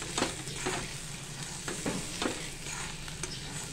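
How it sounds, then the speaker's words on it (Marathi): Masala roasting in a kadai for Satara-style mutton, stirred with a spatula: a steady low sizzle with repeated scraping strokes, about one every half second to second, close and alone. "अशा पद्धतीने आपल्याला आता हा मसाला भाजून घ्यायचा आहे मटणासाठी मंडळी"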